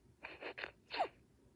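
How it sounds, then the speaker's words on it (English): Sneezing in a blooper reel: a few quick, soft bursts, with two short gasping intakes followed by one sharper sneeze, faint and close with no talking. "you're not supposed to be taking turns sneezing like that."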